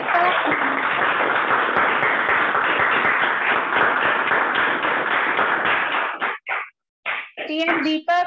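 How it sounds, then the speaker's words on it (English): Loud audience applause at a Toastmasters club meeting, dense steady clapping for about six seconds that breaks off, followed by a voice calling out and brief speech. "please give him a big round of applause"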